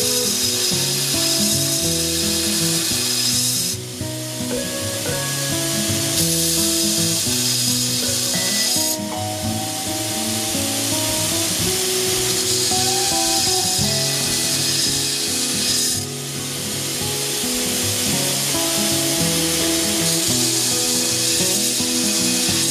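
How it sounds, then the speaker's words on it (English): A forged Bowie knife blade held against a grinder, giving a loud, continuous abrasive grinding roar with a few brief dips as the blade is lifted and set back down. "Grind a little bit more so you can see it a little bit better."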